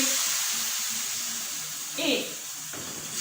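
Pancake batter sizzles as it is poured into hot oil in a very hot frying pan: a steady, close broadband hiss with a brief louder bubbling burst.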